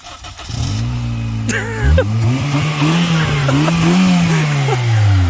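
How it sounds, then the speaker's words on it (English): A 2009 Honda Fit damaged in a crash by a drunk driver cranks briefly, then its engine catches and settles into a steady, loud idle close by. "he jumps in it, and he starts it right up"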